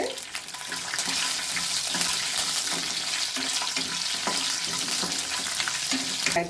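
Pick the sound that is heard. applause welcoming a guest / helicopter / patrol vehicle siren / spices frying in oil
spices frying in oil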